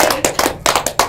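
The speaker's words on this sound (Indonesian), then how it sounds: "tepuk tangan dong." An audience claps hands at an Indonesian school talk show event, a run of sharp, fairly loud clap bursts in uneven rhythm with short gaps between them, heard alone without talk.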